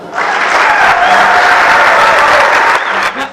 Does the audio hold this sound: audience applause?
yes